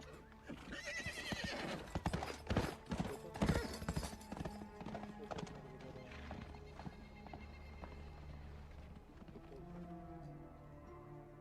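A horse's hooves clip-clop loudly and irregularly on hard ground, followed by a neigh, then fading to a quieter background with faint bird coos.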